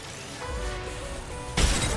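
Enemy armor shield shattering in a video game: a sudden bright glassy crash cuts in after a stretch of game ambience and gunfire-like rumble, then rings out briefly.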